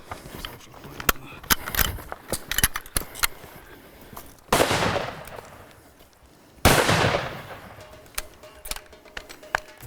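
Two loud, sharp rifle shots during an elephant hunt in Africa, each followed by a long rolling echo, amid scattered clicks and rustling from nearby movement.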